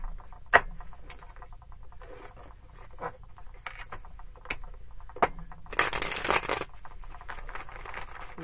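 A deck of tarot cards is shuffled with soft, intermittent rustles and taps, then a louder riffling burst near the end. No voices are heard.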